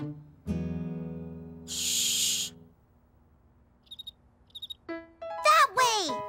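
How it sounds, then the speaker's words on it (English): An animated cricket hiding somewhere in a family home gives a few short, high chirps in quick pairs, heard after a sustained musical tone and a burst of hiss, before brighter tones close the scene. "We have to listen for that sound and follow it until we find the cricket."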